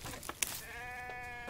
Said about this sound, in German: Hier gibt es auch auf jeden Fall ein Schaf.